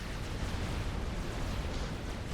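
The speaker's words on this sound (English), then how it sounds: "So that is a great bomb from the Iwasa, deletes all the shields." A big bomb in a team free-for-all strategy battle blasts away shields, producing a deep, sustained explosive rumble with no sharp peak, fairly quiet and heard on its own.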